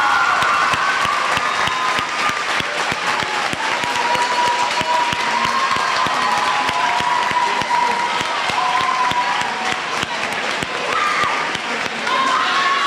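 Audience at a middle school Veterans Day ceremony applauding honored veterans, sustained loud clapping from a large crowd with individual claps popping through, continuing without a break.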